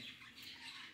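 A peacock squawks in a shrill, continuous call at close range, filling the whole second with loud, harsh tone and no talk over it.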